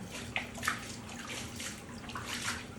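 A gum bichromate print being washed in warm water and gently agitated by hand, giving soft, faint sloshing and trickling with a few small splashes, no voices.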